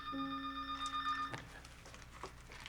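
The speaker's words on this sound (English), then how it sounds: "That's when the phone rang." A telephone rings with a bright, steady electronic tone lasting about a second and a half, then cuts off, leaving faint room noise and soft clicks behind it.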